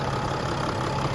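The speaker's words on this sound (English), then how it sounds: "Go ahead and rev it up a little bit." A 2018 Mercedes Sprinter-based Winnebago Revel 4x4 van's engine runs with a steady, close mechanical drone, held evenly throughout with no distinct rev peaks.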